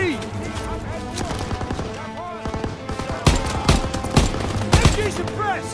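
Bursts of WWII-era rifle and machine-gun fire in Call of Duty WWII pour suppressing fire onto an enemy MG nest, sharp loud cracks and rapid volleys layered over battlefield din, with shouted voices between shots.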